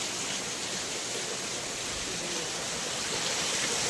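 Heavy monsoon rain pours down in a village, a dense, loud, unbroken hiss of falling water that holds steady throughout with no other sounds standing out.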